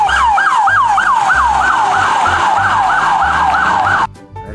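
A toy police car's electronic siren wails in rapid repeating sweeps, loud and close, then cuts off abruptly near the end.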